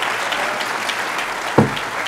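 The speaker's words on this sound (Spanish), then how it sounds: "Dile un aplauso a Dios." A church congregation claps in steady, broad applause, with a brief louder knock or thump partway through.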